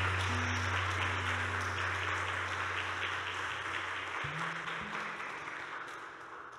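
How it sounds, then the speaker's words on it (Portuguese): Church congregation applauding for the Lord: a broad, continuous wash of clapping filling the room, alongside a sustained low musical drone and a gradual fade in loudness. "Aplauda o Senhor, por favor."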